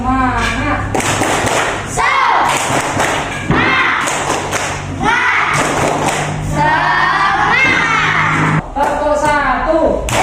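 A classroom group of students performs a rhythmic clapping chant, bursts of loud claps and thumps alternating with a leader's voice and group calls, repeated in short patterned rounds.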